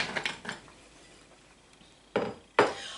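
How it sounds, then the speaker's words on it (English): Hard almonds clatter and rattle into a blender in short bursts, with a quiet pause between the first pours and two sharper spills. "I'm going to pour my almonds into my blender"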